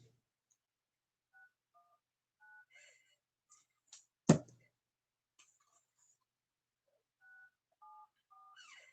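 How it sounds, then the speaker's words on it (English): A phone number is dialed, giving a short run of sparse keypad tones, each a brief beep spaced out with pauses, plus one sharp click in the middle, close and fairly quiet with no talking. "Let me call this number right quick."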